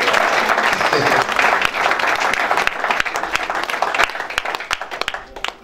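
A church congregation applauding loudly and continuously during a French-language evangelical service, dense clapping that thins toward the end.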